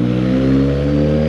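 Suzuki GSX 750 motorcycle engine held at steady high revs, a loud, even harmonic buzz close by, with no talking.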